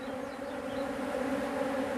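Honeybees buzz steadily around a beehive frame, a close, continuous drone with no other sounds.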